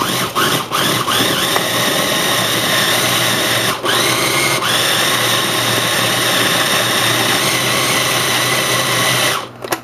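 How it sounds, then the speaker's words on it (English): A food processor grinds stuffed mushroom filling ingredients with a loud, steady motor whir that rises in pitch after a few brief stutters at the start and runs continuously until it cuts off near the end. "I'm going to give it a grind."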